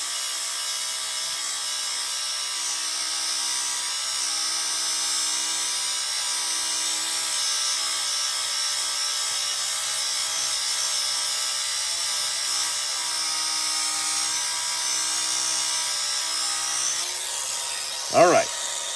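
A rotary polisher spins at maximum speed while polishing Idaho Challis volcanic agates, giving a steady, even broadband whir and hiss with faint low hum throughout, ending in a brief louder clatter near the end.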